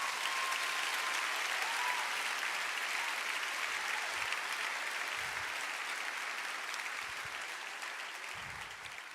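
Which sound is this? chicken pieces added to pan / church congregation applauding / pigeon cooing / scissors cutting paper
church congregation applauding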